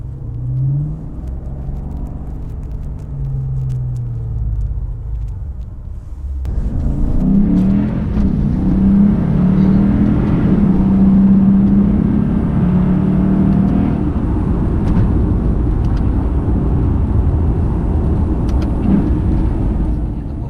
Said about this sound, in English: I think that's the biggest thrill on the 5-litre V8s on the paddle shift, is to be able to hear when you downshift and to hear it bark back at you.